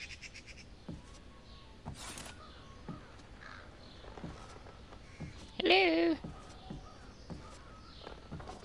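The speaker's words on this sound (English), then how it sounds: "So there's birds in here." Crows caw in the stealth video game Thief, with one loud, harsh caw standing out over faint ambient game sounds and scattered quieter calls, while someone talks intermittently.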